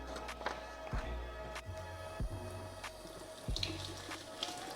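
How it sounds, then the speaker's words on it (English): Tap water runs steadily into a kitchen sink as a cupful of spinach leaves is rinsed for a pineapple spinach green smoothie, with a few soft knocks and handling sounds over the continuous close flow. "I'm gonna wash some of these spinach, about a cupful of spinach"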